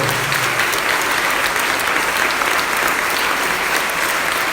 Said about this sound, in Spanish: Vamos a dar un fuerte aplauso a Jesucristo.